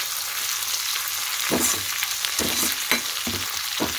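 Food for a homemade temple-style prasadam sizzles steadily in a pan, with several louder scraping stirs punctuating the continuous frying hiss.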